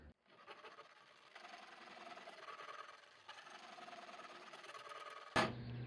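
A jigsaw set at about speed 1.5 cuts while being rocked back and forward, giving a faint, steady buzzing drone that ends with a sharp knock.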